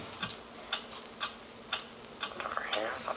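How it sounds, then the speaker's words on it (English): Steady, faint ticking at an even, clock-like pace of about two ticks per second, heard alone at low level with a light rising tone near the end. "What is that mysterious ticking noise?"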